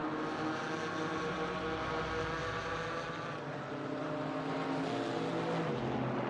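Several Porsche GT4 race cars battling in an esports race at the Nürburgring: a dense, steady engine roar with layered high-revving tones that rises and falls slightly, alone without talk.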